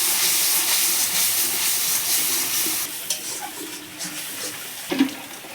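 Prawns frying in a pan with spices give a loud, steady sizzling hiss that fades to a quieter crackle halfway through, with a few soft clinks of stirring near the end.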